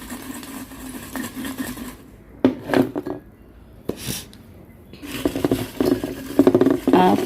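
Tarot cards are mixed by hand, giving a soft papery patter in two clustered bursts separated by quieter pauses, with a faint low murmur underneath.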